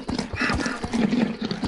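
Donkey noises in the Minecraft video game, a braying, whinnying call with rhythmic clopping thumps, fairly loud and near, with a little talk in the background.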